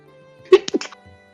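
A single sharp human sneeze bursts out close by in a quiet room, brief and loud, with a small exhale trailing after.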